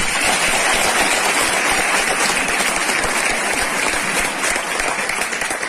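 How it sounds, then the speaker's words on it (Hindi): Loud, dense applause from a crowd at a training session in Dibrugarh, a continuous roar of clapping that holds steady at full strength for several seconds with no break. "तो मैंने एक बार जोरदार ताली है इसके लिए।"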